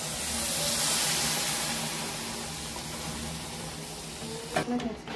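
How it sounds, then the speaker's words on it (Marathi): Milk poured into a pan of roasted semolina and sugar for sheera, a broad steady hiss and steam sizzle that swells then eases, with a few clinks and bumps near the end. "इथे मी अर्धा लिटर दूध टाकून घेतलेलं आहे"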